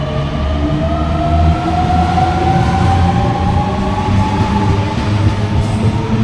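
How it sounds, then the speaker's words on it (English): A train running on the line near a station on a trip to Sydney, giving a continuous loud rumble of wheels with faint, drawn-out metallic squealing tones over the top and no talking. "And that was the train we were on."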